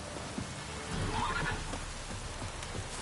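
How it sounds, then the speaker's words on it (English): Steady hiss of heavy rain falling in The Witcher video game, constant and enveloping, with a brief swell in the middle and faint low rumbles beneath. "This downpour's a bastard, it is."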